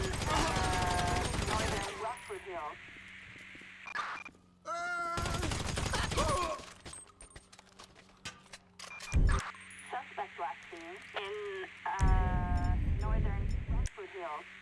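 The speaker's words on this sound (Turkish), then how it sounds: "Hanım polislerle çatışma" A police shootout in a video game sends out loud bursts of rapid gunfire in three or four separate volleys, with speech and quieter game sounds in the gaps between them.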